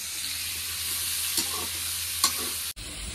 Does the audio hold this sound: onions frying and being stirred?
yes